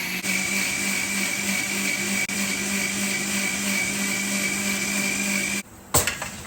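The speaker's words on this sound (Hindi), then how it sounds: "हरी मिर्च और टमाटर जो है वो मिक्सी में पीस रहे हैं।" A kitchen mixer grinder blends green chillies and tomatoes with a loud, steady high whine that runs for over five seconds, then cuts off, followed by a brief clatter.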